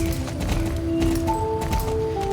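Horse hooves clip-clop in a steady rhythm during a race in the video game Star Stable, set at South Hoof Peninsula, with game music running underneath.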